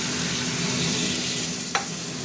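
Water poured into a pan of frying curry with green chillies sets off a steady loud sizzle and bubbling hiss, with one brief sharp crackle near the end and no talk.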